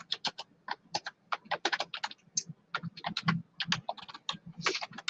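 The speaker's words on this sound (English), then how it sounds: "Let me type" Rapid, irregular typing on a computer keyboard, crisp close key clicks coming in quick clusters with short pauses, alone without talk.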